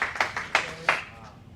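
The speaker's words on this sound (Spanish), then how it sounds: "¿A cuánto le da un gran aplauso al Señor por esta palabra?" In a Spanish-speaking church service, the congregation's clapping comes through as a few sharp, separated claps in a slow rhythm, moderately close and otherwise alone, fading out at the end.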